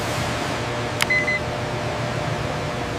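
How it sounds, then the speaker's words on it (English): A single short electronic beep from a machine on a samosa production line, clear but modest, over a steady low hum of background machinery. "Beep."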